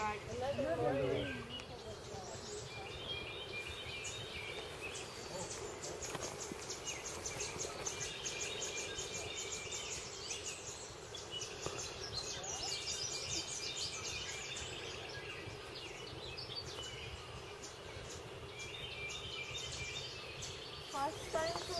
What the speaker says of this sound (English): This is another morning warbler.